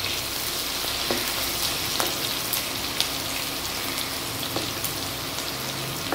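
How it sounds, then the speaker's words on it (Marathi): Crushed garlic cloves fry in hot oil for a green pomfret fish masala, a steady soft sizzle with scattered small pops and crackles, fairly quiet and uninterrupted. "आता हा चेचलेला लसूण आहे, 10 ते 12 पाकळ्या मी घेतलेल्या ह्या लसणाच्या, हे आपण तेलावर थोड्या परतून घ्यायच्या आहेत।"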